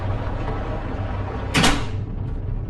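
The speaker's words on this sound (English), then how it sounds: "the front door opened and shut" Front door opening and shutting in a house on a rainy night: a single short muffled swish and thump over a steady background hiss.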